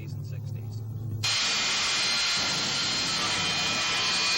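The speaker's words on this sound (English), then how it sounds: "his jet-powered dragster" TV Tommy Ivo's jet-powered dragster race car, a low rumble that suddenly gives way to a loud, steady, broadband jet roar and hiss held to the end.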